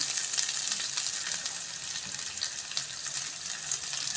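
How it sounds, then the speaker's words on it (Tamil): Onion, garlic, fennel, green and dried chillies and ginger fry in a pan, giving a bright continuous sizzle with scattered crackles throughout. "வெங்காயம் பூண்டு சோம்பு பச்சை மிளகா காஞ்ச மிளகா இஞ்சி இதெல்லாம் நல்லா வதங்கி வந்ததும்"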